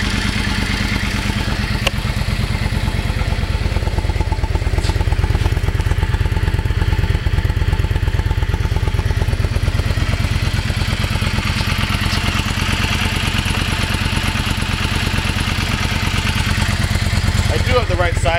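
A 2009 Yamaha V Star XVS650 motorcycle engine runs at a steady idle, a loud, even mechanical thrum that stays close and constant throughout with no tapping or knocking.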